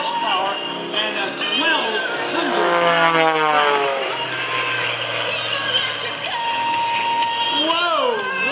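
An aerobatic propeller airplane with more than 350 horsepower climbs straight up, its engine droning loudly with the pitch sweeping and shifting, while someone talks over it.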